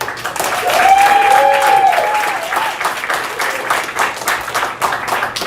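A crowd at a LinkedIn Local meetup in Toronto breaks into warm applause to welcome a speaker, dense and sustained clapping that swells early, with a brief whistle ringing through, then tapers off slightly while continuing.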